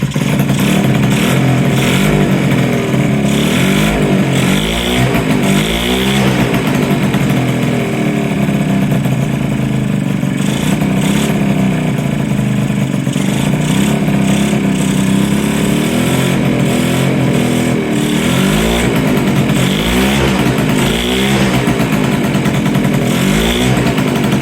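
A Yamaha CV80 80cc scooter engine, bought at a flea market and under repair, runs loud and close with a raspy two-stroke buzz, its revs rising and falling in repeated surges throughout.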